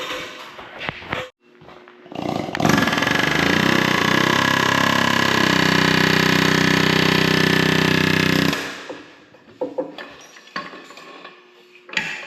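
John Deere 555G engine running with hydraulics loaded under pressure, a loud, steady, harsh mechanical roar that rises abruptly, holds for about six seconds, then drops away to clanks and shop noise.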